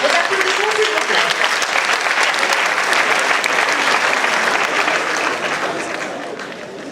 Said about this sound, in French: Vos applaudissements, s'il vous plaît.